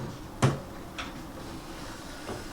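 An antique clock's case door is opened in an early American drawing room: one sharp click at the start, then a softer click and a faint later tap in a quiet room.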